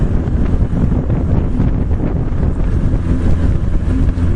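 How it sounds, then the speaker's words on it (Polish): Strong wind buffets a microphone on a fishing boat on open water, a loud, continuous roaring rumble with gusting texture throughout. "Bardzo mocno w tym już wieje."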